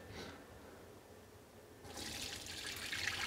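Liquid pours and splashes steadily through a colander as brown vegetables are strained out of a cream of blue cheese and wild mushroom soup, faint at first, then a louder rushing stream.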